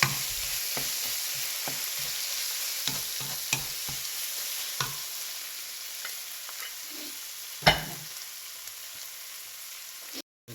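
Green chilies and spices frying in a pan for chicken kosa, a steady soft sizzle under scattered stirring scrapes and clinks, close and fairly quiet, with no talking.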